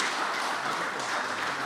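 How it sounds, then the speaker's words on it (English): An audience applauds a panel at a Grenada disability council event in St. Pauls, a steady dense patter of many hands clapping for a couple of seconds with no voices over it. "Give them a round of applause."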